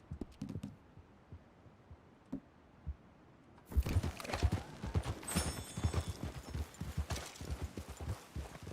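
Horse hooves clip-clop in a quick, irregular rhythm, first sparse and quiet, then a dense, louder stretch of trotting with a faint whinny, in the video game Red Dead Redemption 2.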